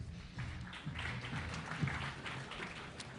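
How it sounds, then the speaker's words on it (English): An audience claps for a presenter taking the stage at a startup pitch expo, a faint, distant patter of applause in a large room that holds at a low, even level throughout. "Round of applause for Chris"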